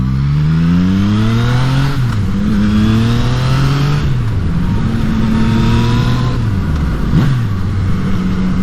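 Yamaha MT-09 motorcycle accelerating hard through the gears to overtake a car, engine note rising repeatedly with brief dips at each shift, loud and close throughout with steady wind rush.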